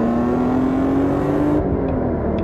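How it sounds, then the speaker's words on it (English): A BMW M3 engine revving with a metallic rasp, a loud sustained rising drone with a steady climbing tone before easing off near the end. "the engine gets that nice metallic rasp."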